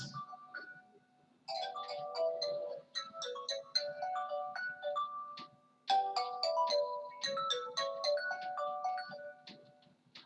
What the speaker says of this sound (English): the phone is ringing, sorry.